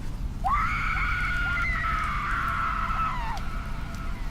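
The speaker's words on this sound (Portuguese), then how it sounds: "de repente nós ouvimos um grito na floresta" A long, high wailing scream rings out in a forest as a horror sound effect, rising sharply, holding for about three seconds over a steady low rumble, then falling away.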